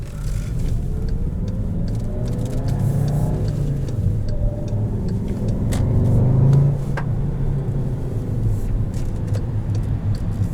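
A 2017 Volkswagen Jetta GLI with a turbocharged four-cylinder engine and a six-speed manual gearbox accelerates. It gives a steady low rumble with a rising surge in the middle, heard from inside the cabin.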